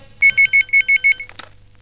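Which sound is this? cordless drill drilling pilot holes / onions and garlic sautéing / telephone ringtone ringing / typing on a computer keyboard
telephone ringtone ringing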